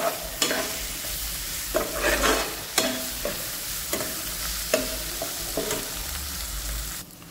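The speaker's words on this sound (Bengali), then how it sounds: "জিঞ্জার গার্লিক পেস্ট দিচ্ছি। এবার এটাকে ভালো করে ভুনে নেব।" Ginger garlic paste is fried on a slow flame for mutton curry, a steady close sizzle broken by repeated scraping strokes of a spatula stirring the pan, ending abruptly.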